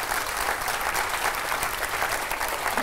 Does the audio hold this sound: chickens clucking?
no